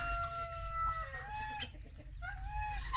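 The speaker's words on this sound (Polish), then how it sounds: "a za nim idzie już kogucik z naturalnych lęgów" A young rooster from a natural hatch crows, its drawn-out, wavering call clear and close over a low steady background hum.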